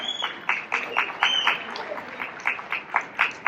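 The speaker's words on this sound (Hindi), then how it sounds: "कृपया एक बार तालियों से स्वागत कीजिए हमारे फुलेरा ग्राम पंचायत का अमेरिका में" An audience at an Agrasen Jayanti event in America gives applause to welcome village council guests, a fairly thin, spaced clapping with a somewhat rhythmic pattern and some crowd noise.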